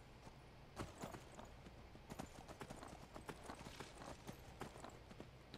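A horse ridden over rough terrain in a video game, its hooves clip-clopping in a steady, even rhythm, quiet and continuous with no talk.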